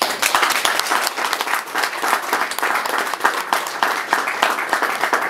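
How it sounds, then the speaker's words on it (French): A convention audience in a hall gives loud, sustained applause during the president's speech, a dense rattle of many hands clapping that carries steadily throughout. "qu'on les applaudisse très fort."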